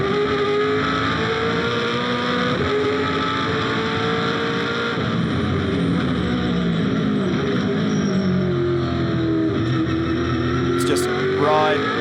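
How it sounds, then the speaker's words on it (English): V8 Supercar racing on a street circuit, its engine roaring and shifting pitch through acceleration and gear changes, loud and sustained with commentary voices over it. "listen to one of these V8 supercars on this great racetrack"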